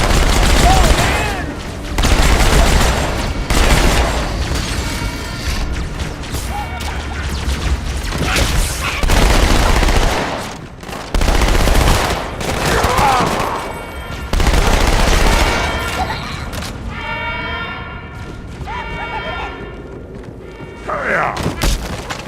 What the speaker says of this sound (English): Mortars in Section 7.